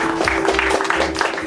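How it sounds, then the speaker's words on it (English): Applause from an audience at an 80th anniversary commemoration of the Buckleys Uprising, a steady broadband patter of many hands filling the short stretch without speech. "Let's give him a round of applause."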